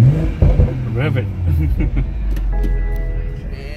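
A BMW engine revs at a 2020 Orange County test drive event, a low, rising growl that swells and holds beneath people talking nearby.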